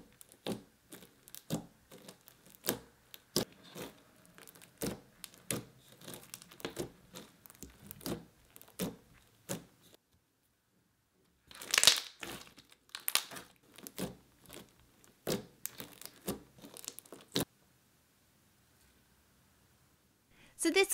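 Crunchy slime with foam beads being squeezed and played with, giving dense bursts of close crackling and crinkling pops, a brief pause near the middle, then more crunching before a quiet stretch.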